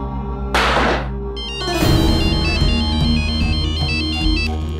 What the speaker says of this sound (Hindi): एक काम करो, फोन लगाओ उस राजवीर को